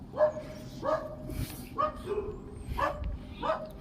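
Several Mudhol hounds bark in repeated short bursts, roughly five barks spaced about a second apart at moderate distance, with some background noise between them.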